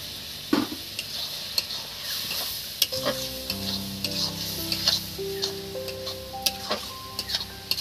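Mutton curry spices being stirred and fried in a little oil, with a steady soft sizzle under repeated scraping and clinking of a spoon against the pan, close up, and an intermittent tone in the background.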